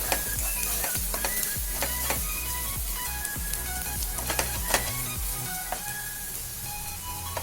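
Onion and garlic paste sautéing in a pan, with steady sizzling broken by repeated scraping stirs of a spoon against the pan, close and fairly loud, and no talking.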